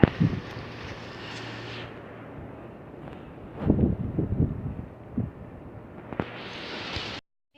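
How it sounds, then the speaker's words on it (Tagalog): Wind blowing outdoors on a hot day by a date palm, low rumbling buffets against the microphone that swell and gust unevenly, with no voices. "Mahangin dito at mainit sa labas guys"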